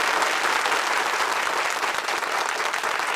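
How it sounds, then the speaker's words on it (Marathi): Enthusiastic studio audience applause on the quiz show Kon Honaar Crorepati, a loud, steady wash of many hands clapping continuously, without speech. "टाळ्या वाजत राहायला पाहिजेत मी ह्या चेकवर सही करेपर्यंत"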